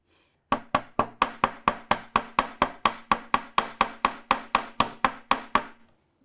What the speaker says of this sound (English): if you choke up on your hammer, it's a lot easier to get a more directed hit on your wire